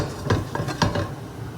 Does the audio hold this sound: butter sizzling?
yes